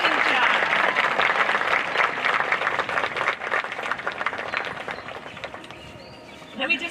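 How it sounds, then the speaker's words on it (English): A graduation audience claps for a student speaker, dense steady applause at full strength that gradually thins and fades, with a short voice at the very end. "Let's give one more round of applause for Jose."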